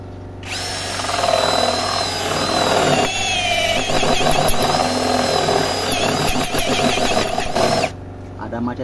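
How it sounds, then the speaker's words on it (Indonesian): An APR AP12+ cordless drill runs in drilling mode at speed 2 with a spade bit, a loud steady whine that starts abruptly, holds with slight wavering and occasional stutters, then cuts off near the end. "Mode drilling speed 2 APR nih guys."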